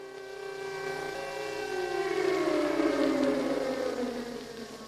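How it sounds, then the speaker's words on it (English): An air raid siren sounds in 1945 Prague, recorded in a Czech broadcast, its wailing tone sliding downward in pitch, loud and sustained, with no talk over it. "we hear the familiar sound of an air raid siren, captured here in a Czech broadcast from the time"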